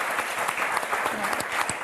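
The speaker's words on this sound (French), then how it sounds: "On vous applaudit très fort" A studio audience on the Motus game show applauds, giving a brief burst of steady, dense clapping from a sizeable crowd at medium distance.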